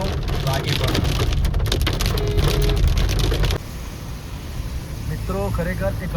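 Rain falls steadily on a mountain road on the way to Badrinath, a dense hiss that drops slightly partway through, with faint vehicle noise and a voice talking in the background.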